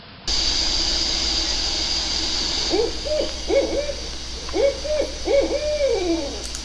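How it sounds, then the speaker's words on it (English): An owl hoots repeatedly in a state forest hammock camp at night, a series of wavering, rhythmic calls at middle distance over a steady background hiss and a faint insect drone, no talking. "I got to listen to him make that call, and another owl made a response back and forth for quite a long time."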